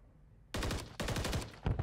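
Gunfire in Call of Duty: Modern Warfare 3 during a ranked Search and Destroy match, with shots punched through walls: two loud bursts of rapid automatic fire after a quiet start, then a third burst at the end.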